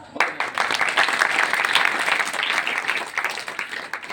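An audience at a scholarship examination event applauds a student with dense, continuous clapping that swells quickly and stays steady for several seconds before thinning slightly.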